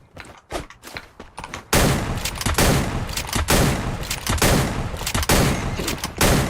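Rapid bursts of gunfire in the Free Fire battle-royale game, loud and close: a few scattered shots at first, then dense sustained volleys pulsing in repeated waves with short gaps, no talk over them.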